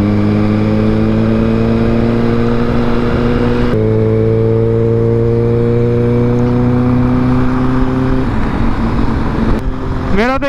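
A Kawasaki ZX6R sport motorcycle engine idles and revs in steady stepped surges, its pitch climbing and dropping, close by and continuous throughout with no talking.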